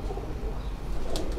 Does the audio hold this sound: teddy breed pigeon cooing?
yes